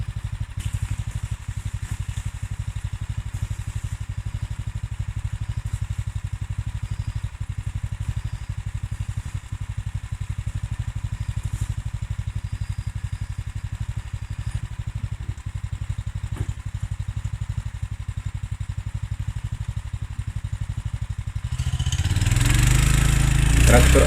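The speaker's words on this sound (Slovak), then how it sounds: "Traktor aj s vozíkom sa pomerne ľahko rozbieha a takto vychádzam až na vrch toho mierneho svahu." Tractor with dual wheels pulling a trailer up a gentle slope, a steady low engine drone throughout that swells louder and rougher near the end as it takes the load.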